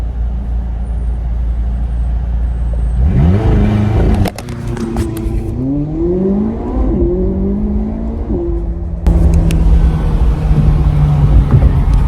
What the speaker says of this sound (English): So let's see if we can time launch correctly to launch this car.